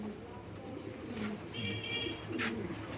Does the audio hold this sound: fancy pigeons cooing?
yes